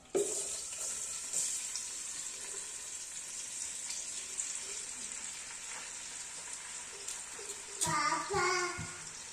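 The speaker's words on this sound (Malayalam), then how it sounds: "എണ്ണ നന്നായി ചൂടായി കഴിഞ്ഞാൽ നമ്മൾ കട്ട് ചെയ്ത് വെച്ച ഒണിയനിടാം" Chopped onions sizzle in hot oil for a fish masala, a steady close hiss that runs throughout, broken near the end by a few stirring clinks against the pan.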